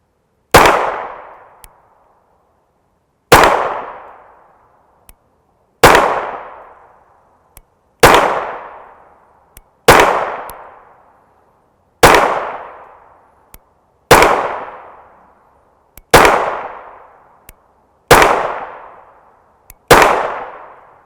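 Nine sharp pistol shots from a 9x19mm handgun with an extended magazine, firing 94-grain frangible ammunition, spaced about two to three seconds apart, loud and close with short decaying ring after each.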